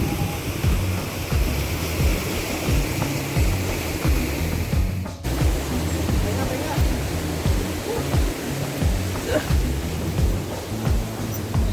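Flowing river water at a cave area with three rivers, a loud continuous rushing wash that stays steady throughout, close by, with a brief dip midway.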